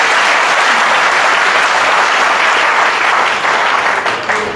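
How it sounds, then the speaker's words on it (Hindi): An audience at a Buddhist gathering in Agra claps for Babasaheb, a dense, loud burst of applause that holds steady and then begins to taper off near the end. "तालियां बजाइए बाबा साहब के लिए।"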